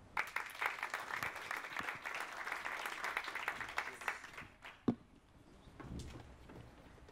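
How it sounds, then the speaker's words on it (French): Faint, distant audience applause welcomes a speaker at the AMGE Talks & Sounds event: a soft, pattering clapping texture for several seconds that thins out, with a few isolated knocks at the end. "Je vous invite à l'accueillir, à l'applaudir chaleureusement"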